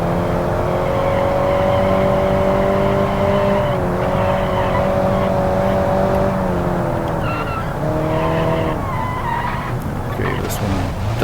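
A car engine drones steadily through a lap in BeamNG, its pitch rising and dipping through gear changes, with tires skidding and squealing now and then; loud and continuous.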